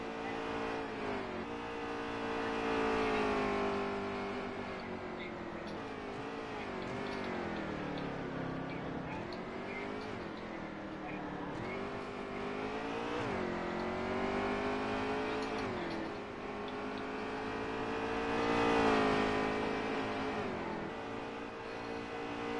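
Racing trucks in a video game truck race, several engines droning and revving with pitch rising and falling through gear shifts and corners, a continuous loud pack sound with no pauses.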